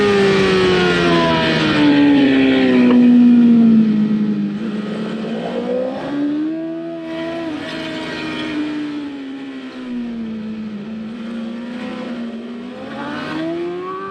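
Racing motorcycle accelerating hard around a track, its engine note climbing and falling through gear changes and corners, loud and close, with no talk.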